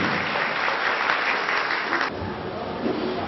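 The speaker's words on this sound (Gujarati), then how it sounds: "એકવાર જોરદાર તાળી વગાડો આપણા આ સમન્વયકને" An audience at a Gujarati Samaj 75th anniversary celebration applauds loudly, a dense sustained burst of many hands clapping up close that eases slightly toward the end.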